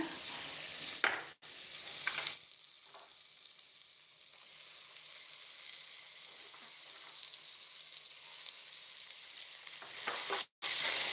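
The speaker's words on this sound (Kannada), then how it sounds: "ಈಗ ಸೊಪ್ಪನ್ನು ಆ್ಯಡ್ ಮಾಡ್ಕೋತಾ ಇದ್ದೀನಿ" Washed amaranth greens hitting hot oil in a pressure cooker set off a loud hissing sizzle that eases to a steadier, softer fry, with brief rustles as the leaves go in.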